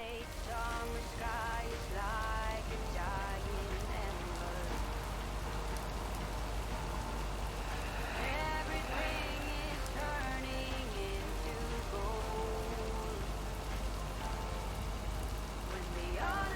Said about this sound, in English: we could listen to the rain